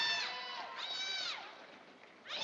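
A crowd at a French M85 Critérium boxing final cheers and shouts in three rising, wavering bursts, the loudest at the start and end, with quieter murmuring between.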